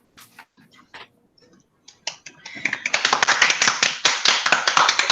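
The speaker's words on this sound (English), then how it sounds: "Golf clap." Golf clap: after a few scattered faint taps, soft, rapid, light hand claps build into a steady patter of quick quiet claps, close and alone.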